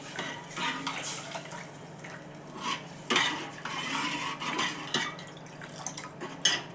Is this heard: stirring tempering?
yes